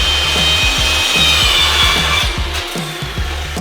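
A cutting wheel cuts wood on a workbench with a loud, steady rasping drone, pulsing in a regular rhythm close by and running without pause or voices.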